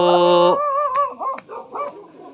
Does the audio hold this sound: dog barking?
yes